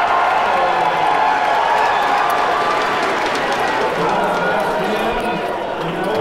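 Crowd cheering at the 2009 World Series of Poker Main Event final table: a steady, dense roar of voices and cheers that holds throughout, with some clapping mixed in.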